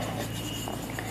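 Faint scratching of writing on a board during a maths lesson on sets, a brief stroke over a steady low room hum.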